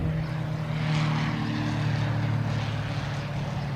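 An airplane flies near Boston Logan Airport, a steady droning engine roar with a constant low hum, moderately loud and unaccompanied by voices.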